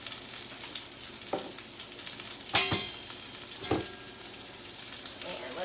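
Potatoes frying in a pan for a spicy greens and potato frittata, a quiet steady sizzle with a few distinct stirring scrapes and knocks.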